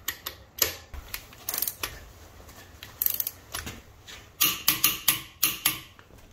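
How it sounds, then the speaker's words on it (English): A torque wrench tightens wheel nuts on a Tesla Model 3 to 129 foot-pounds, giving a series of sharp, close mechanical clicks and ratcheting snaps in uneven bursts, with a quick run of clicks near the end. "At this point, you need a torque wrench. Set it precisely at 129 foot-pounds."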